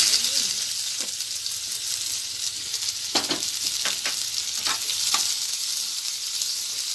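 Steady, loud sizzling of onions frying in a hot pan, with a few sharp clacks of stirring scattered through the hiss.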